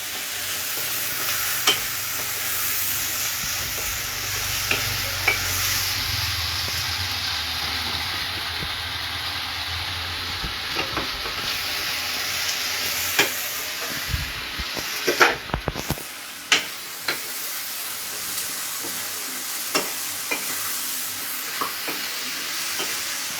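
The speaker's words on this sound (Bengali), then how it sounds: "এটাকে বেশ করে তেল ছাড়বে যতক্ষণ না, ততক্ষণ কিন্তু কষতে থাকবেন" Paneer masala being stir-fried in oil over a high gas flame: a loud, continuous sizzle with frequent scraping stir strokes and clatter, close up, with no voices.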